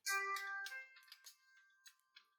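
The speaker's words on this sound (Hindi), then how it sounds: "1 मिनट दीजिएगा, बस फोन आ रहा" A phone ringtone plays as a melodic electronic tone sequence, loud at first and then fading into softer repeated notes, heard alone without talk.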